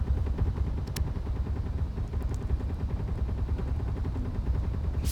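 Rapid, continuous gunfire from a ship-mounted gun in Space Engineers, a dense low mechanical rattle that stays steady and loud from start to finish.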